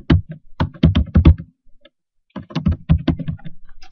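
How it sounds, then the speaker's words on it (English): Someone types on a computer keyboard, setting a category in a social marketing tool. Two quick runs of close keystrokes are split by a short silent gap. "and you can type that in."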